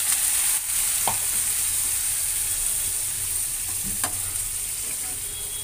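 Egg and potatoes frying in a pan for egg biryani, with a yogurt and colour mixture added: a steady, close sizzling hiss broken by a couple of brief soft taps.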